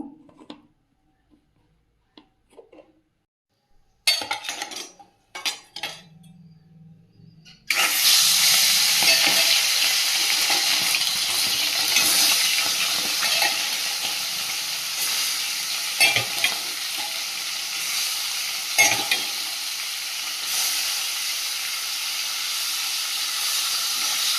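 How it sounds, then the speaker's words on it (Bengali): Fish dropped into hot oil in a wok sets off a sudden loud, steady sizzling hiss that carries on close up after a few quieter knocks and clatters, with occasional sharp spatters. "কড়াই দিয়ে দিয়েছি তেল মাছগুলো ভেজে নেব"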